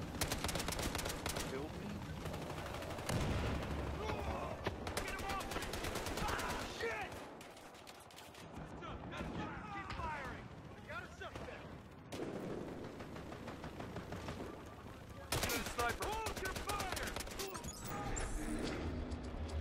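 Rapid gunfire bursts crackle almost nonstop through a Battlefield Hardline conquest match, loud and dense with overlapping shots and occasional heavier blasts, while game voices talk beneath the action.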